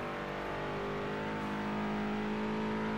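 A Ford Taurus in the Forza Horizon racing game drives with a steady, loud engine drone and whine that holds one pitch throughout, with no talking.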